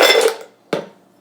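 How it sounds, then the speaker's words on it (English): Ice being added to a Vitamix blender: a loud clattering rush of cubes tumbling into the container, a pause, then a second sharp clunk that fades out, with no talking. "Last but not least, we add our ice."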